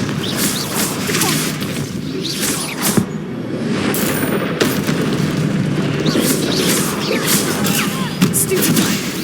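Confringo blasting spells explode during combat in the Hogwarts Legacy video game, sounding as repeated booming blasts and crackling bursts over dense battle noise that stays loud and continuous throughout.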